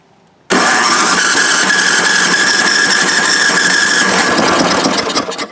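An MTD snowblower engine cranks hard on a dose of starting fluid, a loud, continuous mechanical churn that bursts in abruptly and runs steadily for several seconds close to the microphone.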